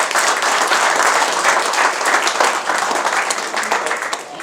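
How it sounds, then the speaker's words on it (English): A dense burst of applause from a crowd at a community farewell event, steady and loud, fading slightly near the end. "they really deserve a round of applause"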